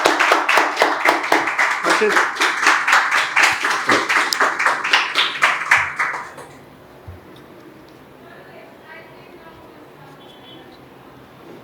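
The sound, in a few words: students clapping for Harshit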